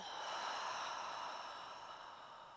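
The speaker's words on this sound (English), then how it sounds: "Let's take a deep inhale in together. And an exhale out." A slow, deep exhale of breath during a yoga session, a soft, steady airy whoosh that fades gradually over a couple of seconds, alone and close.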